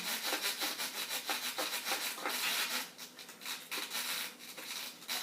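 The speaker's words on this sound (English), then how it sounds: "Maybe if I can manipulate this screwdriver" A screwdriver tightens the mounting screws on a Badger 900 InSinkErator garbage disposal, giving a rapid series of close, scratchy rubbing strokes in an uneven rhythm, quiet and unaccompanied by talk.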